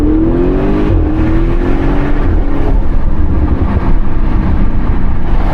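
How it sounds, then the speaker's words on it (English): A 2017 Audi RS6 C7 with an Audi Sport titanium exhaust accelerating, its deep, loud engine drone rising in pitch, heard from inside the car and close throughout. "The exhaust didn't sound as good as this one."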